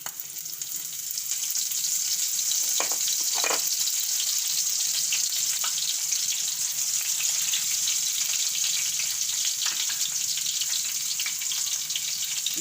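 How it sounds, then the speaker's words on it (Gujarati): Cumin and green garlic dropped into hot oil give a loud, steady sizzle and crackle that holds unbroken for over ten seconds, with a few brief clinks and stirring sounds close by. "તો આપણું તેલ ગરમ થઈ ગયું છે તો આપણે એમાં જીરું નાખી દેવું અને આપણે આ લીલું લસણ લીધું છે એ નાખી દેવું"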